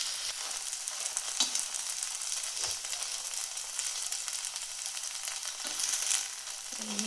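Potato pancake frying in oil in a pan, giving a steady, close sizzling hiss with a few soft scrapes and stirring touches; no one talks.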